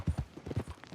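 Horse hooves clip-clop at a walking pace in Red Dead Redemption 2, a steady run of soft, muffled thuds heard fairly close.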